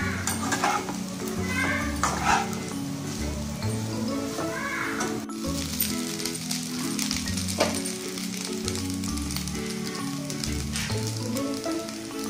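Cooled basmati rice is stirred through chicken fried rice in a pan, with a continuous sizzle, repeated scraping strokes and occasional clinks of the utensil against the pan.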